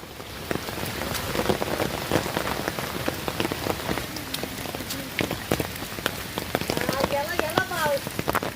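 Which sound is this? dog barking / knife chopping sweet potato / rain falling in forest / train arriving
rain falling in forest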